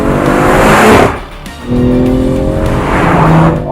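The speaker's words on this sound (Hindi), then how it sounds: "स्पोर्ट प्लस मोड में जाइए and this will feel as if कोई जोरदार सुपर कार आप चला रहे हैं, स्पेशली साउंड ट्रैक के हिसाब से" A BMW M340i xDrive accelerates hard in Sport Plus mode, a loud, close engine roar that briefly eases before rising again with climbing revs, with no talk.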